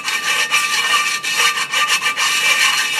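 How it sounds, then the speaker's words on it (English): Sandpaper is rubbed over the surface of a brake drum in quick, close, back-and-forth strokes, giving a loud, continuous rasping scrape with rhythmic pulses and no talk. "So we're just going to take some sandpaper"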